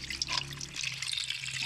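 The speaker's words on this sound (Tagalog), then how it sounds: "ato na ni siyang butangan og tubig para ato na siyang lutoon" Water streams and splashes into a cooking pot over cleaned ingredients, a continuous bright pour with a few drips, close and fairly quiet with a low background hum.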